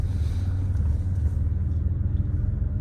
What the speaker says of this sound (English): We'll do a little street driving.